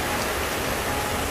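Heavy rain falling steadily outdoors at a swab testing site, a loud, even hiss of downpour with no other sounds.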